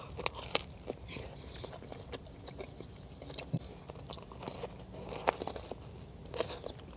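Crispy sfincione pizza topped with breadcrumbs, tomato, onion and anchovies is bitten and chewed close to the mic, with faint crunches and soft mouth sounds repeating over several seconds.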